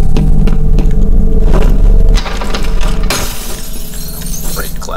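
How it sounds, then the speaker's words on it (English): Glass shattering in the first-person shooter F.E.A.R., a loud crash with a dense burst of debris followed by a bright scattering tail of falling shards and low rumble, with no talk over it. "I'll be breaking glass all the time."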